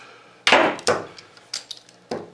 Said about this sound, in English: So I'm using a punch.